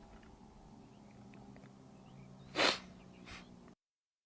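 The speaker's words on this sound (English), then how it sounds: "I gotta blow my nose now that I sneezed" A single sharp sneeze bursts out close to the microphone during a live stream on the Jack's Point Track in Queenstown, New Zealand, followed by a softer snort or breath, over faint outdoor background noise.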